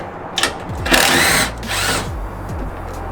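A power tool, likely a drill or driver, whirs in short bursts as it removes a 10mm bolt from a Toyota Tacoma composite truck bed, close and loud with brief pauses between runs.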